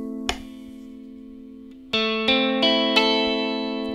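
A Schecter C1 Silver Mountain electric guitar plays with its humbucker split to a single coil: one struck chord rings out, then a rhythmic run of four firm strums follows, close and clean with light effects and reverb.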